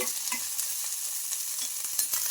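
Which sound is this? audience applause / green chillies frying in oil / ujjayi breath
green chillies frying in oil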